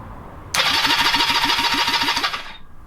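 A Honda CB250 scrambler motorcycle engine cranks on its electric starter with no fuel tank fitted, giving a steady rapid whirring and chugging for about two seconds before it stops. The engine does not fire.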